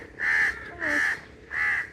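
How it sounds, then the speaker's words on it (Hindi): Crows cawing from trees in a mango orchard: three loud, harsh, drawn-out caws in a slow, even rhythm, close by and clear, with no talking. "ये देखो ऊपर आसमान में ये दरख्तों पे कौवे कितने बैठे हुए हैं"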